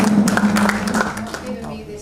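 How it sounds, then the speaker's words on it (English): Clapping at a council meeting, a cluster of hand claps heard under and alongside talking voices, fairly close and short-lived. "we will big round of applause to both of them"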